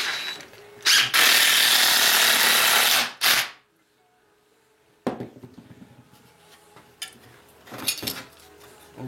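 A power drill drives 5x80 screws into wood while a garden tunnel frame is built, with a long loud whir, a short burst, then quieter intermittent whirs and clicks close by.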